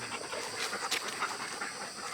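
A dog pants rapidly and steadily, close up, in a busy outdoor garden and construction setting, with a breathy hiss continuing throughout and no talk.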